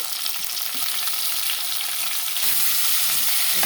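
Drumsticks fry with onions, cumin and ginger in a pan, giving a loud, dense, continuous sizzle that swells slightly louder near the end, close up and without talking.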